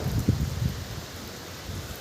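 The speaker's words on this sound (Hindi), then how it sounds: "ये देखो क्या मस्त मस्त छींटे गिर रहे हो फोन के ऊपर" Rain pattering onto a phone during a monsoon shower in Jaipur, a steady soft hiss of falling drops with a few louder taps near the start, no voices.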